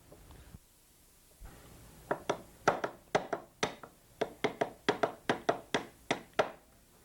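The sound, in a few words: punch driving out the magazine catch pin of an Enfield rifle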